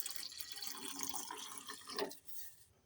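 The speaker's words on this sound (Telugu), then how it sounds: "ఇప్పుడు ఇందులోకి పాలు వస్తున్నాను ఫ్రెండ్స్." Milk poured into simmering jaggery tea, a faint, continuous liquid pour with light splashing and dripping that tapers off after a couple of seconds.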